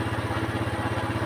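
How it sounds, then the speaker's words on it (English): A Honda Super Cub motorcycle engine idles steadily, with a regular low-pitched chugging pulse and no voices. "and this is a motorcycle"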